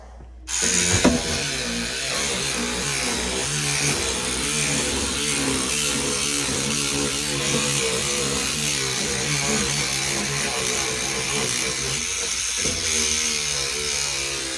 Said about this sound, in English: We'll get this all scrubbed up here.